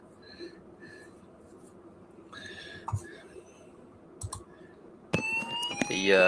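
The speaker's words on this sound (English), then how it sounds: "The heat detector works. Okay, good. It went off very quickly." A heat detector alarm sounds abruptly near the end after a quiet stretch of faint clicks and handling noises, its loud, piercing electronic tone rising and sustaining close by.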